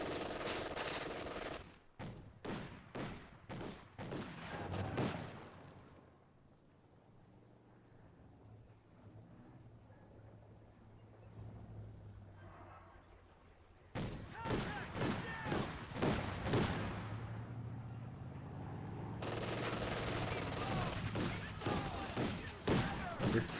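Machine gun bursts and heavy artillery crump in the Company of Heroes 2 strategy game, including a .50 cal, coming as rapid rattling volleys separated by a quieter stretch of distant rumble, then resuming loud.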